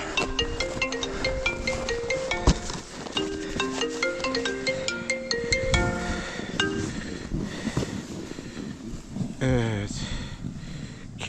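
A mobile phone keeps ringing with a repeating melodic ringtone on the slopes of Erciyes ski resort, fairly close, while people talk over it.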